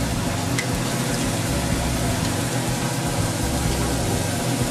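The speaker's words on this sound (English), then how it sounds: "it's time to flip our steak" A steak freshly flipped on a hot grill sizzles steadily, a loud, dense hiss of frying with a faint low hum underneath and no talking.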